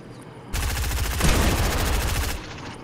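Rapid automatic gunfire from the Fortnite video game rattles out in one loud, sustained burst of about two seconds, then stops abruptly. No voices are heard.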